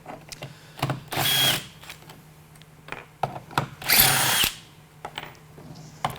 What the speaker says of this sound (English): So what you'll need is a drill and a 9/16 socket.